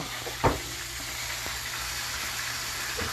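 Chicken wings frying in hot oil: a steady, even sizzle and hiss throughout, with a soft clunk near the start and a few faint knocks, close and moderately loud with no voices.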